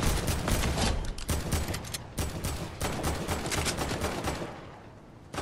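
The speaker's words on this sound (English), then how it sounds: "Oh my gosh, the deagle's so good. It's a hand cannon." Desert Eagle pistol firing in Fortnite, a rapid string of loud, sharp gunshots close up, repeating in quick bursts for several seconds with brief gaps between volleys.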